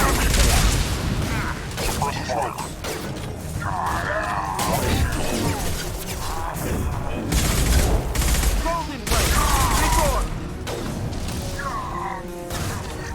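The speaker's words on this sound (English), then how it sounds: "Firing a high impact shot." Weapon fire in the Mass Effect 2 Lair of the Shadow Broker mission, with bursts of rapid shots, heavy impacts and mechanical clatter over a loud, busy game soundtrack, and character voices talking in between.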